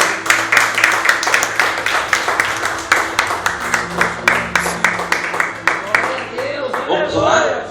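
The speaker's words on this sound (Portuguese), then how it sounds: "A igreja pode aplaudir o Senhor." A church congregation applauds during a sermon, loud rhythmic clapping that fills the room and continues steadily throughout, with voices murmuring underneath.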